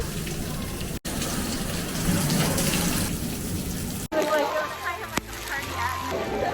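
Steady rain pours and splashes on hard surfaces at Tokyo DisneySea, a continuous wet hiss, with people talking over it and a brief gap partway through.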